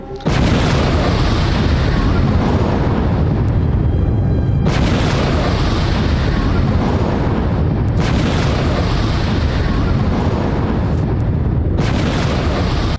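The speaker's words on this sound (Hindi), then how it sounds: "एक के बाद एक कई रॉकेट दागे गए।" Rockets fired and exploding at the Israel-Lebanon border, heavy rumbling blasts one after another in long roaring bursts with brief gaps between them, loud and sustained.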